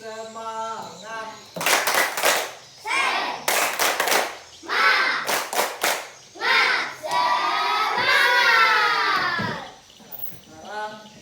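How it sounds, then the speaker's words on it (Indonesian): A classroom group does a rhythmic spirit clapping chant, bursts of sharp claps alternating with children's chanted voices in a patterned call-and-response rhythm. "marilah kita mengadakan insyaallah tepuk semangat"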